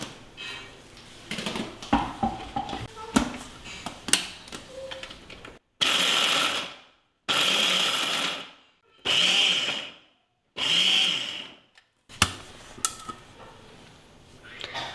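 An electric mixer grinder coarsely grinds a chocolate mixture with cocoa powder and vanilla essence in loud, whirring bursts, about five in a row, each lasting a second or so and separated by short pauses, with clattering and handling noises before them.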